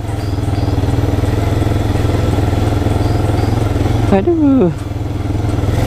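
A motorcycle engine idles loudly and steadily nearby with a fast, even throb while the bike is ridden near Air Manis beach in Padang. A person talks over it, and another vehicle's tone rises and falls briefly.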